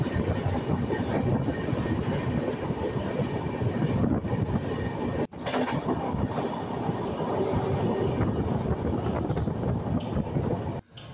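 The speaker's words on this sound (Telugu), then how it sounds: "మనం మళ్ళీ అదే ఫ్reight ట్రైన్ని ఓవర్టేక్ చేసుకుంటూ వెళ్ళిపోతున్నాము" East Coast Express overtaking a freight train, a sustained loud roar of wheels and rattling carriages with clickety-clack rhythm and wind buffeting, briefly cut twice, no talk.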